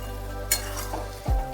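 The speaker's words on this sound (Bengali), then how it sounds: "এবার ধনে গুঁড়ো আর গরম মশলাটা দিয়ে ভালোভাবে এটা নাড়িয়ে চাড়িয়ে দিতে হবে।" Chicken polao masala is stirred in a frying pan with coriander powder and garam masala, giving a soft continuous sizzle broken by a sharp scrape at the start and a heavier clunk of the spatula near the end.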